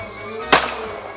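A single sharp gunshot cracks during weapons training, one loud, close report with a brief tail over a steady background hum.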